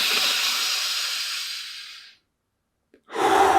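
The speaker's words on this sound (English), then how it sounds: "take more of a forceful breath and push the air into your" A forceful, deep, hissing breath drawn in for about two seconds and tapering off, then a brief pause before another strong rush of breath begins, close and loud.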